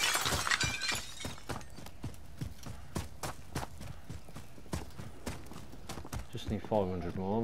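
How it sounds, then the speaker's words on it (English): Glass smashes inside a Warzone match in Verdansk, a bright shatter at the start followed by rapid rhythmic footsteps and clattering, with players chatting over the game sounds. "Is that you smashing glass?"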